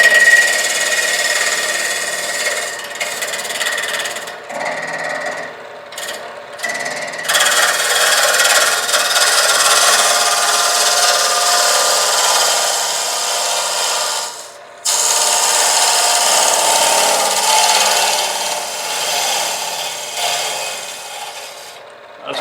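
A wood lathe spins a hollow vessel while a scraper cuts inside it, giving a loud, close, continuous rasping rub that runs in long stretches, breaking off briefly and then starting again.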